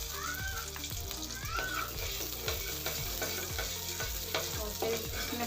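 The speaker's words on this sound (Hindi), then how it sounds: "इसे हम 2 से 3 मिनट के लिए फ्राई करेंगे।" Tablespoon of butter sizzling and frying in a pan while being stirred, with a steady hiss and repeated scraping strokes throughout, close and fairly loud.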